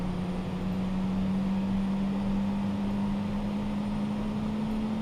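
An Airbus A320neo jet engine spooling up in Flight Simulator 2020: a continuous, steady droning hum whose tone slowly climbs in pitch, heard alone with no talking.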